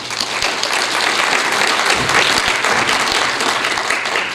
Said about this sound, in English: Let's give each of the students a round of applause.